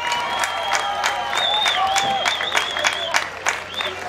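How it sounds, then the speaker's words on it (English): An outdoor crowd at a first annual July 4th fireworks show at Fort Totten in Bayside applauds and cheers in a steady mass of clapping, with whistles and shouts rising above it and voices mixed in. "Give yourselves a big round of applause"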